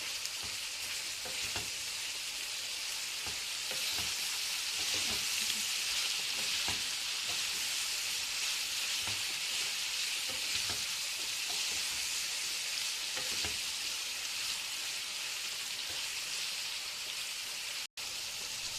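Chicken pieces sizzle and crackle steadily in a hot pan, with occasional scraping and stirring clicks as they are turned, loud and continuous with no voices.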